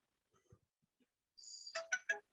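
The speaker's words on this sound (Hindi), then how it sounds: "अरे यार फोन डिस्टर्ब कर रहा है।" A mobile phone rings during a physics lecture on ray optics, its electronic ringtone opening with a sustained high tone and then breaking into three bright bursts, loud and close, after a few faint scattered sounds.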